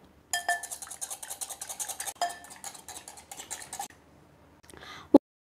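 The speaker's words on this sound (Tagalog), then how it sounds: "kailangan natin ito i-whisk na huwag itataas yung ating whisk para hindi ito mag-create ng bula-bula" A whisk clinks and scrapes rapidly against a bowl while beating eggs for a chocolate roll cake batter, a busy metallic rattle that pauses briefly and ends with a single sharp clink.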